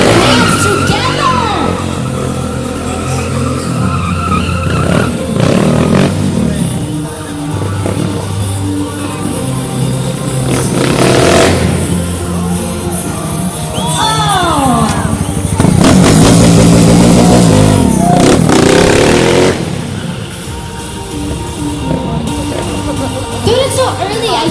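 A stunt motorcycle at a Red Bull show holds still while its rear wheel spins, revving hard with rising and falling engine whine and tire screech, loud and close, amid crowd noise and an announcer's voice.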